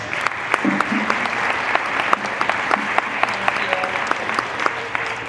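Audience applause at a school all-parent meeting, greeting the gala chair: dense, steady clapping from a roomful of people, close and sustained for several seconds.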